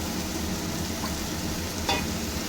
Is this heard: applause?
no